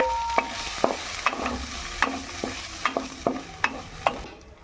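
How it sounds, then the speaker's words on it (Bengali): Raisins and khoya kheer fry in ghee in a pan. The oil sizzles steadily, and a spoon scrapes and stirs in regular sharp clicks roughly every half second, close up, with no talking. "এবার এটাকে আমি ঘি দিয়ে ভেজে নেব।"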